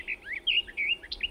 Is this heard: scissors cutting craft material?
no